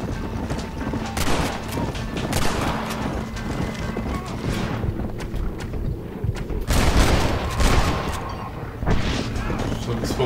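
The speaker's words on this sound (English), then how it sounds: "Shots fired." Gunfire rings out in Red Dead Redemption, with several sharp shots scattered across the scene amid clip-clopping horse hooves and constant game background noise.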